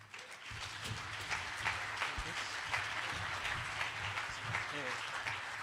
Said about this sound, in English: So please give a round of applause to Anthony Samaroff.